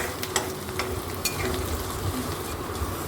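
Chicken pieces frying with chopped ginger and garlic while being stirred, a steady close sizzle broken by a few quick spatula scrapes and taps.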